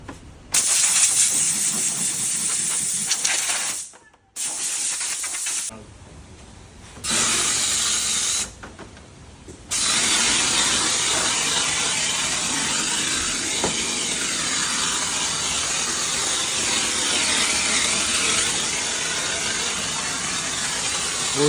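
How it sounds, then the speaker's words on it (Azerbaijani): Grass foam shampoo is sprayed onto a Range Rover's engine bay with a loud, steady pressurised hiss, broken by several short pauses before one long continuous spray. "İndi başlanır avtomobil bu hissəsi köpüklənməyə."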